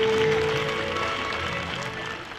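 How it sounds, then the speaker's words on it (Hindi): Applause from the audience at a school annual function follows students passing through a ring of fire, a broad wash of clapping that slowly tapers over about two seconds, with a voice over it. "भरपूर तालियों से दाद दें"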